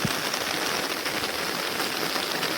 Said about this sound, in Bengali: বৃষ্টি হচ্ছে ওইভাবে